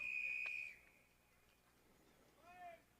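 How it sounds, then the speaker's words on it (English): A sharp referee whistle blast sounds during a rugby match between Penn Hills and West Allegheny, followed by a fainter second toot against quiet crowd background. "Whistle's blown."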